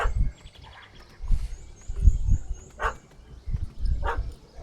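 Dog barks in The Witcher 3 on PC, a few separate bursts at moderate distance over low game ambience and music, with no speech.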